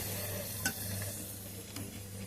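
A papad deep-fries in hot oil with a soft, continuous sizzle and bubbling, a couple of faint clicks on top, quiet and close with no one talking.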